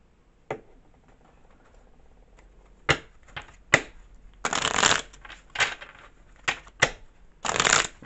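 Tarot cards shuffled by hand, close and crisp, in several separate bursts of riffling and slapping with a couple of longer rustling shuffles, short quiet gaps between them, no talking.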